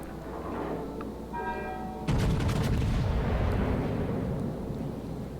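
Battleship Monarch's main gun salvo in World of Warships erupts as a loud booming blast with rapid crackling reports, then a long rumbling roll that fades out slowly over the following seconds.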